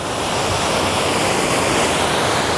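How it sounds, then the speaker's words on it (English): Water pours over a low head dam at Bissell Dam, a loud, dense, continuous roar of churning flow close by, steady with no voices. "here is a really good look at a low head dam."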